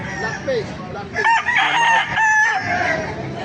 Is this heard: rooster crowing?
yes